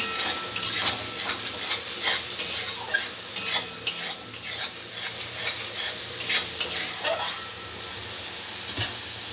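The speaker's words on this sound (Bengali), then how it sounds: "মিশিয়ে নিয়েছি, আমি এবার দিয়ে দেবো তেলের মধ্যে। সেটা আমি এবার লেড়ে দেবো।" A spice mix poured into hot oil and stirred for a vegetarian aloo dum sizzles continuously at close range, with repeated scraping and clinking of a spatula against the pan.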